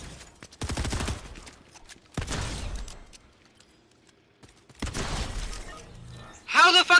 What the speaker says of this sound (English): Fucking two shot me with a fucking suppressed SMG, fucking eliminating me.